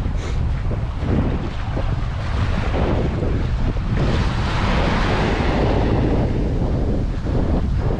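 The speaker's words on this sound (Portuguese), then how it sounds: "O vento continua contra, não há nada a fazer" Strong headwind roars across a small boat at sea off the coast near Tróia, loud and continuous buffeting the microphone with gusts, and waves wash underneath, with no voices.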